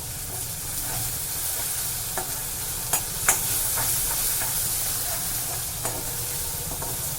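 Onion and a ground spice paste sauté in oil in a pan for a green chickpea curry, a steady close sizzle with occasional stirring scrapes and soft clicks of the spoon throughout, no voices.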